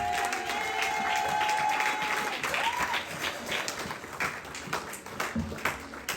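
Congregation applauding and cheering for Jesus during a French-language church service, a dense, steady wash of clapping and voices that stays loud throughout.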